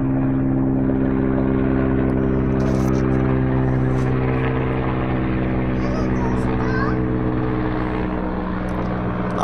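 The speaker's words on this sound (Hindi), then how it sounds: "जस्ट ऊपर से हेलीकॉप्टर गुजरा, दो हेलीकॉप्टर तो हम लोग शूट किए हैं" A helicopter passes overhead, its loud, steady engine and rotor drone running continuously through the whole stretch.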